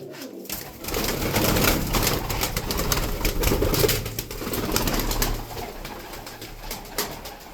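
Pigeons coo in a loft of newly arrived birds, a steady run of soft, low cooing calls close by with some rustling in the background.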